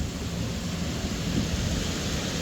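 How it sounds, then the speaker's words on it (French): Deep rolling thunder rumbles continuously under the steady hiss of heavy rain during a hailstorm in Bordeaux, loud and enveloping. "Oh le tonnerre."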